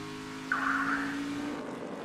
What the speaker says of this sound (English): They drive into turn 3. See, the 10 car got loose getting into the corner.